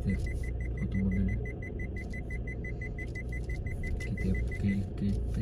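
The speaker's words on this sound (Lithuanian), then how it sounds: "O tai pipsi, kaip reiškia, yra šalia bordiūros visai" A car's parking sensor beeps steadily and rapidly as it creeps close to a curb during a driving lesson in Klaipėda, thin repeated pips riding over low engine rumble inside the cabin.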